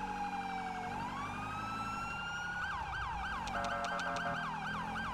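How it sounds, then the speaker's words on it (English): Ambulance siren in the video game GTA V, heard alone and steady. A rising wail switches into a fast, repeating yelp pattern over a constant engine-like drone. "I wish he would change his siren."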